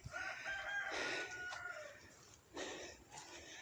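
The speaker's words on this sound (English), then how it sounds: "I think my chickens are fighting." Chickens squawk and cluck in agitated bursts as they fight, faint and somewhat distant, with a couple of sharper cries and no talking.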